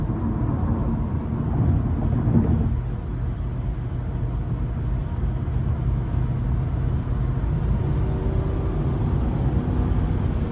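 Steady low rumble of a 2004 Lexus LS 430 with its 4.3 V8 at 191,000 miles while driving, a quiet, smooth powertrain hum blended with road and cabin noise, constant and subdued with no talking.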